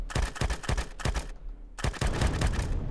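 Assault rifle in Empyrion Galactic Survival firing several sharp close shots, a brief pause, then a longer sustained burst of rapid fire, loud and alone with no talk.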